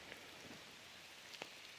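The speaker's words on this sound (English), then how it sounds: "I love the sound of the rain." Rain falling on a tent during a wet morning in the woods, a faint steady patter with a few distinct drops ticking on the fabric, quiet and close.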